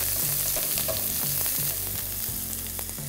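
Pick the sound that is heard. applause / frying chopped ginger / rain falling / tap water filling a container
frying chopped ginger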